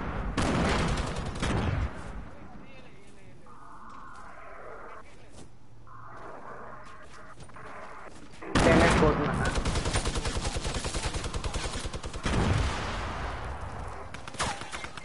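A drum gun fires in a shooter game in long, rapid automatic bursts, loud and close, broken by a quieter stretch in the middle where a voice talks, then resuming in heavy sustained volleys.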